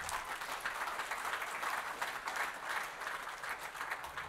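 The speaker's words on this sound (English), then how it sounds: "he deserves every ounce of round of applause you're about to give him" Audience applause at a travel company's meet-and-greet for a Gallipoli cruise in Adelaide, welcoming a speaker: steady, fairly quiet clapping from a seated crowd, slightly distant, swelling gently and continuing evenly without talk.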